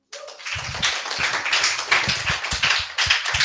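Audience applause for a speaker at a church gathering, a burst of dense clapping rising quickly and sustained throughout, fairly close and lively with no voices over it.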